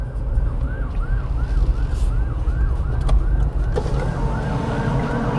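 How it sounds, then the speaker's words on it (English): Emergency vehicle siren wailing at night in Los Angeles, a fast repeating rising-and-falling yelp that is loud and steady over traffic rumble, then shifts to a slower pattern near the end. "I hear sirens."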